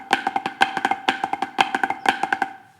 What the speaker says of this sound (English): Or maybe your Flam Drags are sounding like this?